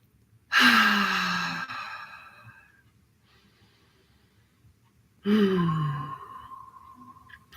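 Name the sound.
deep connected breaths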